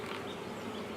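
Honey bees swarming and buzzing around a hive, a dense, steady close drone of many wings filling the short moment, with no voices.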